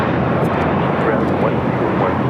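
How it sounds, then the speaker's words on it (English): An eight-year-old JetBlue Airbus A321 roars on its takeoff run at Los Angeles airport, a loud, steady broadband jet-engine rumble that stays constant throughout, with a voice faintly talking underneath. "This is the moment I met Blue, taking off to Fort Lauderdale, JetBlue Flight 1700, an 8-year-old A321"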